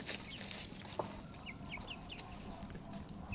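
Hens cluck softly in a rhythmic series of short chirping calls, fairly quiet against a low background hum, with one brief louder knock early on.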